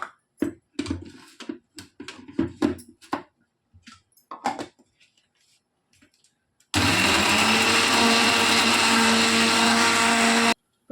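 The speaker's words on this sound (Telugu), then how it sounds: "నానబెట్టి పెట్టుకున్నటువంటి కాజు బాదాంలను అదే వాటర్ని పోసి మెత్తగా మిక్సీ పట్టుకుంటున్నాను" A mixer grinder blending soaked cashews and almonds with their soaking water roars loudly and steadily for about four seconds after a stretch of clinking and tapping sounds.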